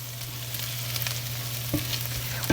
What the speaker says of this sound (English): Let the green beans saute a little bit in the pan with the butter, the almonds, and the shallot.